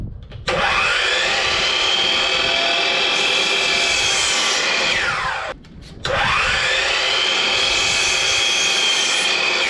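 Wood side pieces for a portable workbench cut to 47.5 inches with a power saw, heard as two long, loud whining cuts, each easing off as the blade finishes, separated by a brief dip.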